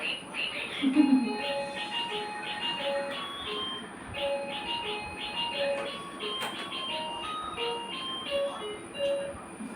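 A child's toy car plays a tinny electronic jingle, its melody repeating in a bright, steady loop. It sounds close and moderately loud, with faint background voices and household noise.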